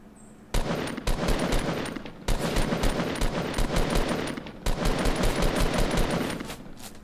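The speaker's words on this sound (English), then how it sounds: "Someone's shooting at me." Automatic gunfire in the Fortnite battle royale video game: rapid bursts of loud shots in long strings, broken by two short pauses, sounding close and dominant.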